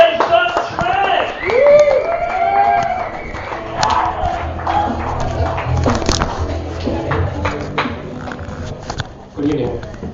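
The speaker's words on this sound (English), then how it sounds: "Let's have a big round of applause, everybody." Crowd noise with cheering, whoops and some clapping at a comedy show, a voice rising over the audience, loud and busy throughout before easing off near the end.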